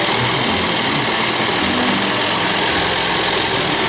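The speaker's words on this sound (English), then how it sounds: "He's sewing a gold line on either side of this blue." A sewing machine stitching a gold line beside a blue strip, a loud, continuous motor drone and rattle that fills the whole stretch without pause, with no voices.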